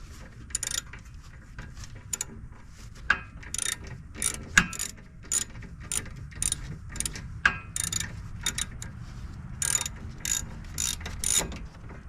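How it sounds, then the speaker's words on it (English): Wrench tightening rear brake caliper bolts on an Infiniti FX35 SUV, a steady run of close metallic ratcheting clicks in irregular bursts over a low background rumble, with no talking. "we're gonna go ahead and tighten these bolts back up"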